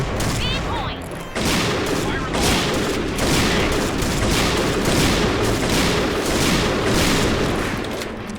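Rapid, continuous gunfire in the Point Blank video game, a dense barrage of sniper rifle and other weapon shots that stays loud almost throughout, after a brief quieter opening.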